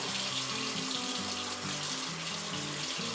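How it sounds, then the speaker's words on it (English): Hands lathered with antibacterial soap are washed under a steadily running tap, the water flowing continuously and close by with soft splashing as the hands move, and no talking. "Lots of hand wringing, hand washing."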